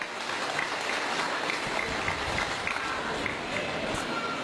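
An audience at an Islamic sermon gathering applauds, a steady wash of many hands clapping at a moderate distance with no break.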